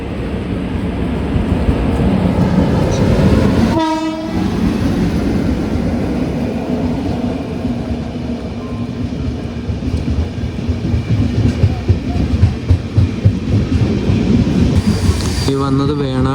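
The Venad Express, hauled by a P7 locomotive, rolls into Piravom Road station with a loud, sustained rumble of wheels on rails. A horn blast sounds early and again near the end.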